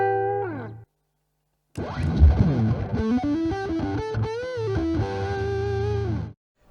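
Electric guitar played through a tuner, compressor and fuzz pedal chain for heavy riffs and solos: a brief clean phrase, a pause, then a loud, thick, sustained distorted riff with bending notes, alone without talk.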